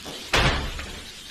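A front door opens with a single sudden, loud, broadband burst, followed by a fainter second knock-like sound as it settles, set against a steady background rumble with no voices.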